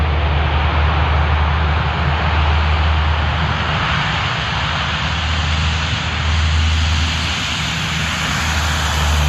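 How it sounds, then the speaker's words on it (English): An airliner rolling down a runway gives a steady, loud, deep engine roar with broadband rushing noise that holds constant throughout, heard close without any voices. "Airliner rolled down the runway before amazed spectators who eagerly captured the moment on"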